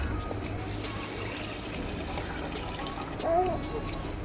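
Chana dal and toor dal are rinsed in water, giving a soft continuous trickle and slosh with a brief louder splash near the end, all under a low background hum.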